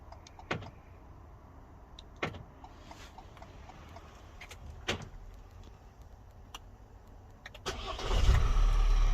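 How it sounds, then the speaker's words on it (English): A Ford Transit Custom Euro 6.2 van with a manual gearbox is locked remotely, bringing a few sharp clicks and whirs as the mirrors fold in. Near the end the engine cranks and catches into a loud steady idle. "That locks and arms it, remote starts it."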